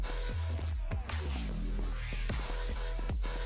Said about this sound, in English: What's the ding sound?